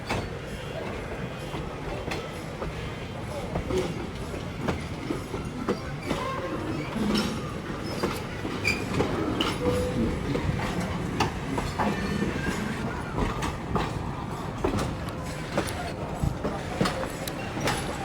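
A train running on rails at the Illinois Railway Museum during a Thomas and Percy event, with steady rumble and rhythmic clickety-clack of wheels, close and continuous under faint crowd noise.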